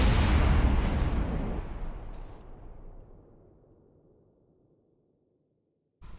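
A rocket engine fires in Kerbal Space Program, a loud, broad roaring rush that starts at full strength and steadily fades away over several seconds to near silence, with a brief noisy burst at the end.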